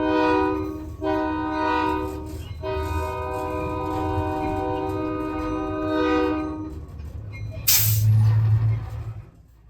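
Freight locomotive horn on an Oklahoma short line railroad sounds in long sustained blasts over the rumbling engine, with a brief hiss of air near the end; no talking.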